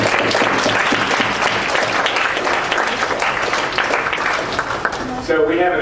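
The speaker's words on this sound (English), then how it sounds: "I think we should all give a nice round of applause to Twee, Lee, and Amy Purtle" An indoor audience at a panel event claps steadily throughout, a dense, sustained round of applause that fades at the end as a voice begins.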